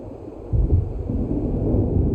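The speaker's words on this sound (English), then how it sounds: "It seems there's a storm coming." Low rumbling thunder from a storm rolling in over dark water in the video game Alan Wake, a deep sustained roar that swells after a quieter start and keeps grumbling steadily to the end, with no voices.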